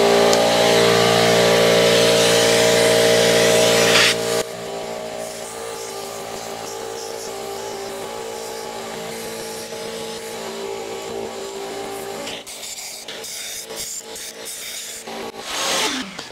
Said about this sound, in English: that was actually under a minute of Walnut blasting